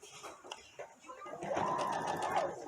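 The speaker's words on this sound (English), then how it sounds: "I'm going to top stitch it as close to the edge" Sewing machine top-stitching a folded binding along the edge of a knit blouse, a steady whirring run that swells and holds near the mic, with faint talk just before it.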